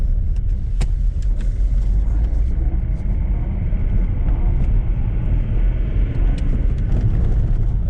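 A BMW 330d E46 with a diesel engine accelerating, heard as a loud, steady low rumble throughout, with no voices.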